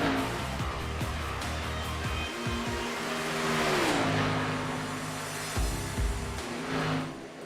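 NASCAR Nationwide Series stock cars lapping Talladega in iRacing, engines droning steadily with a rising and falling pitch as cars pass and shift, a continuous loud roar throughout with no voices.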